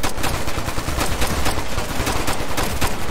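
Dense, loud video-game gunfire from the shooter Ghost Recon Future Soldier, rapid automatic bursts repeating steadily throughout with no pauses and no talk.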